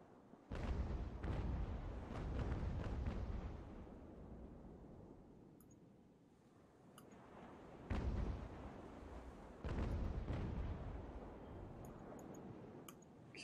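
Ship cannon fire in the age-of-sail naval battle game Ultimate Admiral Age of Sail: several deep booming shots in loose clusters, some rolling together, with quieter gaps between salvos.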